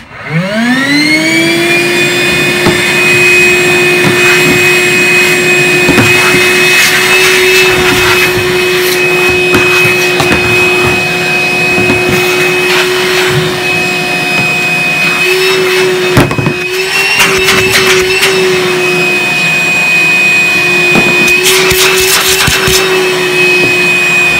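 A vacuum cleaner runs loud and close, rising to a steady high whine that holds for the whole stretch, with small dips and pitch wobbles as the airflow changes.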